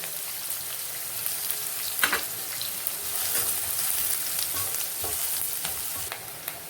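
Onions and curry leaves sautéing in a pan for quail masala, a continuous close sizzle with intermittent scraping stirs and a few sharper clatters of the spoon.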